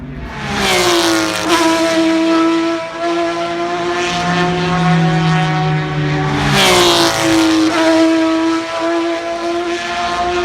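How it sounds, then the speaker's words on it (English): Porsche race car at Mid-Ohio during an IMSA sports car race, its engine screaming past loudly with rising and falling harmonic whine on two passes, close and alone. "This Porsche sounded nasty"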